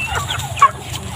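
Chicken clucks scattered over a low background murmur, with one brief sharper squawk near the middle.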